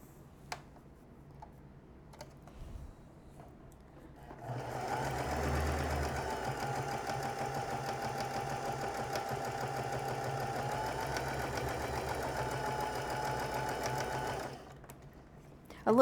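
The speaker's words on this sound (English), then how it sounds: "I've dotted the seam lines that I'm going to be sewing on, and we're going to sew this and then cut it apart" A sewing machine stitches along the dotted seam lines of a quilt block in one steady mechanical run of about ten seconds. Its rhythmic whirring and ticking stays close and moderately loud, and the room is quiet before and after.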